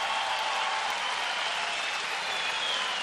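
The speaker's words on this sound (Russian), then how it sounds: "Аплодисменты от э, Виталия Кличко." Arena crowd applauding at a professional boxing match, a steady, dense wash of clapping and cheering that stays loud and even throughout with no voice on top.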